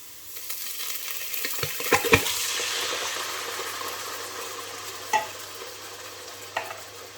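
A spoon stirs coconut milk into a pot of lentil and cardamom soup: soft swishing and sizzling from the pan with a few clinks of the utensil against the pot, quiet and close.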